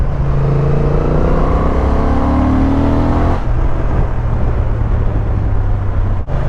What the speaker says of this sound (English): This 750 engine is fantastic, and it does sound good as well because it's got that